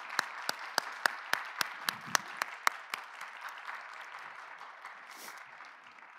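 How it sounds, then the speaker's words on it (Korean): A small congregation at a Sunday youth worship service claps to welcome a new pastor, a run of about ten crisp, evenly spaced claps that stand out before giving way to a quieter, softer patter. "우리 박수로 환영하도록 하겠습니다."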